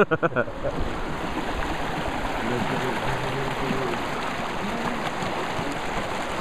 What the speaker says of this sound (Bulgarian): Ето е и рекичката по протежението.